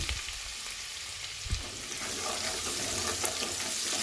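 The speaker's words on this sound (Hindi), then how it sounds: "अब इसी में थोड़ा सा लहसुन डाल दीजिए, बारीक चॉप करके या बारीक कूट के डाल दीजिए। हल्का सा इसको भून लीजिए।" Finely chopped garlic fries lightly in a pan for dal tadka, making a continuous close sizzle with a few stirring knocks and clinks. No one speaks.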